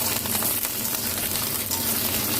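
Eggplant pieces hit hot oil already holding mustard seeds, chopped garlic and curry leaves, making a loud, dense, continuous frying hiss with small crackles scattered through it.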